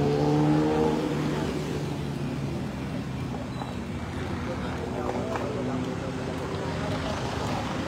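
Steady road traffic along a busy street, J.W. Diokno, with engines droning and vehicles passing close by, louder at first, while someone speaks over it throughout.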